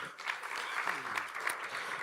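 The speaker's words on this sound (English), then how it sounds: "Let's appreciate Esther Ngomeli with a warm round of applause" Applause at an award ceremony during a summit, a short, fairly soft wash of clapping from a modest audience, with some murmuring.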